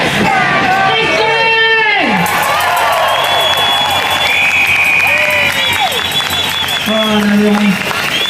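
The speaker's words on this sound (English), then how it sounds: "Another big round of applause." Crowd at an outdoor protest rally in Australia cheering, whooping and applauding in a loud, continuous roar with scattered yells, while someone speaks over it near the microphone.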